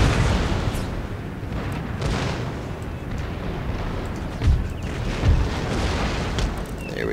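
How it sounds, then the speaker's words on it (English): Howitzer artillery in the strategy game Empire: Total War fires in repeated deep booms, with a couple of heavier blasts standing out over a continuous low rumble of battle. "my howitzers are causing a depressing amount of damage. They're just firing away straight ahead here"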